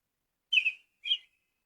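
An American robin sings two short, clear whistled phrases with a pause between them, faint and alone.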